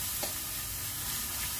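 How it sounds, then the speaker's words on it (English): Sausage frying in butter in a pan, a steady close sizzle with light stirring throughout, no voices. "Fry ko na yung sausage."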